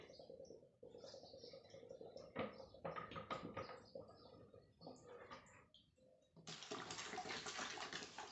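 Water is poured around a container while building a homemade mini fridge, with faint intermittent splashing and trickling in bursts that ends in a steadier, fuller pour.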